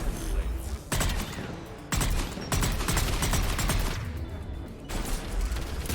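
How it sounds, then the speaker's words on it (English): Rapid bursts of mounted turret gunfire in Mass Effect 3, loud and close, firing in several long volleys separated by brief gaps, with faint voice underneath. "Mounted turret."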